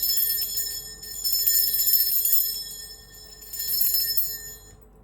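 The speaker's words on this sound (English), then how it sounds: "I'm going to be ringing this bell." A hand bell rung to cleanse the space in a meditation setting, its bright sustained tone rising in three swells over about five seconds and ringing on alone with no talk.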